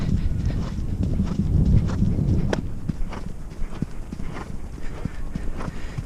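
Young racehorses trot at a Kyneton track and their hooves clip-clop in an irregular rhythm under steady wind and movement noise, first heavier and close, then lighter.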